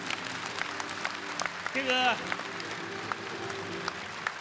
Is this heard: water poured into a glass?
no